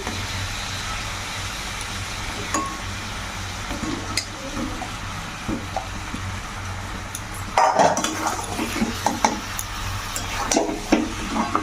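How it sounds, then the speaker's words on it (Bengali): Fried potatoes tumble into a pot of mutton curry and are stirred. A low kitchen hum runs throughout, scattered scrapes and clinks are heard, and a louder burst of clattering and sizzling follows the addition, close by. "এরপরে ভেজে রাখা আলুগুলো এর মধ্যে দিয়ে আর একটু কষে জল ঢেলে দেবো"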